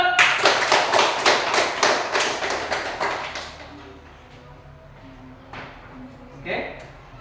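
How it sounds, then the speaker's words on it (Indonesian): A classroom of students clapping together during a physical education lesson on floor gymnastics, a burst of steady rhythmic claps lasting a few seconds, then fading into quieter room noise with a few faint voices. "Oke, tepuk tangan dulu."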